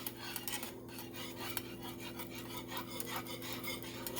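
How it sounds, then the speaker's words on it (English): A whisk scrapes steadily around a bowl of keto chocolate pudding mixture with dissolved gelatin, making a close, continuous rasping swish with quick repeated strokes and no talking. "Just whisk it up a little bit to make sure it's all dissolved."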